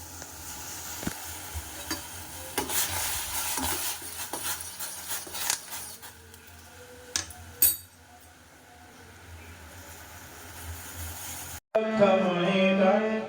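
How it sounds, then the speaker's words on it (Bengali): Black tea simmering in a pot with bay leaf, ginger and black pepper, giving a steady soft sizzle and bubbling with occasional clinks of a spoon. After a brief cut, music with singing takes over near the end. "আমি এই যে লিকার চা বানাচ্ছি তেজপাতা আদা দিয়ে, একটু গোলমরিচও দিয়েছি।"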